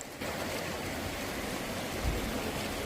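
River water rushes in a steady, broad wash as a fishing net is cast into a river in the Iranian mountains, close and continuous, with a soft splash near the end.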